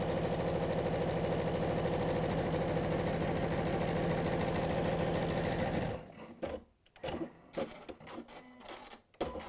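Sewing machine stitching a quilt, running fast with a loud, steady mechanical whirr and rapid needle rhythm for several seconds, then stopping, followed by soft handling noises and small clicks.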